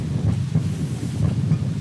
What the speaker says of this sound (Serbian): O, kreće neki vetar.